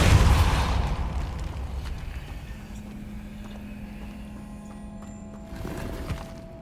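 The Depulso repelling spell fires in Hogwarts Legacy with a loud, rumbling burst at the start, then settles into a steady low hum and faint ambient tones for several seconds. A smaller swell rises near the end.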